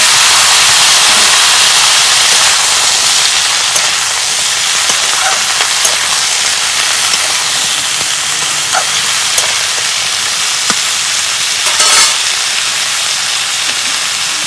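Spices going into reddened onions in a frying pan for a small-fish and red amaranth curry set off a steady, loud hiss and sizzle that runs continuously, with faint clinks and one brief louder burst near the end.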